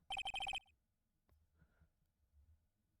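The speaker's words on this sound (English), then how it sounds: "All of a sudden, the phone began to ring." A cell phone rings in Ace Attorney: Justice for All, a quick burst of rapid electronic trill pulses for about half a second, loud and close, followed by faint clicks and quiet background.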